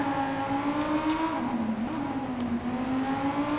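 White car driving past in the video game Watch Dogs 2, a steady close engine drone with a slight dip in pitch partway through.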